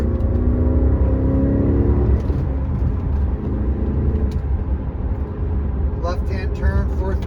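A manual Porsche 957 Cayenne GTS engine hums and revs inside the cabin as it downshifts from fourth to third, the pitch shifting midway, while someone talks over it throughout.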